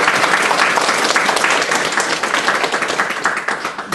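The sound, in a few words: applause welcoming a guest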